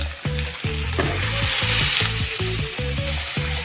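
Cooked urad dal tipped into a hot tempering, a loud close sizzle and frying crackle with a rapid run of rhythmic stirring scrapes over a few seconds.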